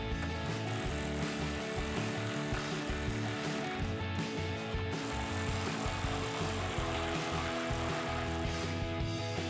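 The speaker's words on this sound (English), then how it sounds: "Take a 10mm socket to tighten them down." A ratchet with a 10mm socket tightens the top headlight bolts on a 2016-2023 Toyota Tacoma, giving a steady run of fast mechanical clicking that stays close and fairly even throughout, with no talking.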